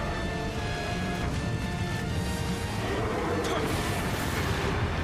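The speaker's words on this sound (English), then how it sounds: "More explosions." Explosions in the action game Nioh, a continuous loud roar of blasts and crashing debris with rumbling low end, steady and dense throughout.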